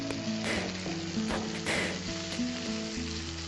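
Noodles fry crisp in a pan over a low flame, crackling with a dense, even sizzle. A few louder stir scrapes and pops rise above it, set against a steady low hum, with no speech.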